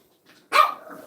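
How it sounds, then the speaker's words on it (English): A French bulldog puppy, one of several at play over chew toys, gives a single sharp close bark after a faint soft yip. "because there's multiple puppies in here and they want to steal each other's chew toys, they will bark"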